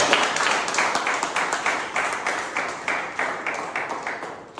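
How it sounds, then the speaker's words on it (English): A club meeting audience applauds after a tall tales speaking contest, a steady round of clapping from many hands that holds for several seconds at a fairly close level, tapering slightly toward the end. "Let's have another big round of applause."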